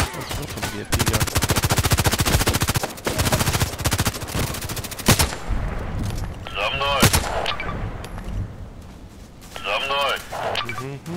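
Automatic gunfire in the online shooter Contract Wars, with long rapid bursts of loud shots followed by scattered single shots and bursts, while someone talks over the action.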